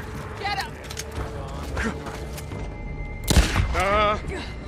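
Gunfire in the video game Days Gone, a few muffled shots and thumps in the distance under a player's voice chat, with a louder burst near the end.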